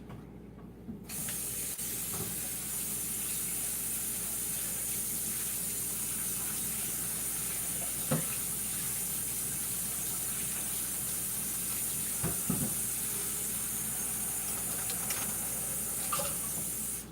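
Blended meatball sub sauce is poured into a pot over a whisk, making a steady splashing, hissing pour that runs nearly unbroken, with a few faint knocks and clinks.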